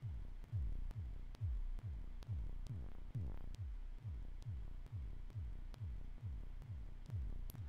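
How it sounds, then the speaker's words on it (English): Ominous heartbeat effect from the Eye of the Beholder video game, a steady loud double-thump pulse repeating about every half second, deep and throbbing, alone with a faint hum behind. "It sounds like an evil heart beating."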